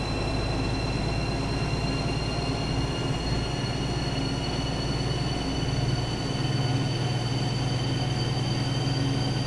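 A BR218 diesel locomotive in a train simulator game runs with a steady low engine drone and rolling rail noise, its tone shifting slightly lower partway through as the throttle is applied, with no voices.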